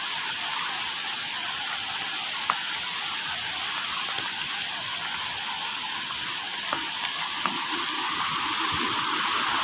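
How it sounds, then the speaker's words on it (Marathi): A rain-swollen stream in flood after heavy rain in the Konkan countryside, a steady broad rushing roar of water, close and continuous with no pauses. "हे बघा कसे पर्याला पाणी आले बघा. हे बघा कसला जबरदस्त पाऊस पडला आहे."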